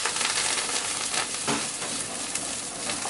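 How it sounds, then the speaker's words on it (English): Brussels sprouts hiss and crackle in hot oil in a pan, a loud, dense, continuous sizzle heard up close. "So in a pan here, I've got some oil. I'm going to pop the sprouts in."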